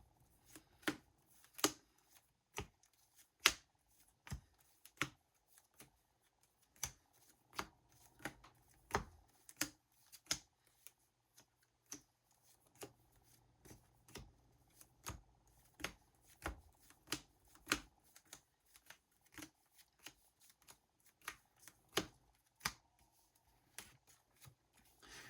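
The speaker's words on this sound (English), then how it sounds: "this technique that I'm using right here is called power shuffling" A deck of trading cards in plastic sleeves is power shuffled, giving repeated crisp clicking snaps in irregular bursts, close and alone with no talk.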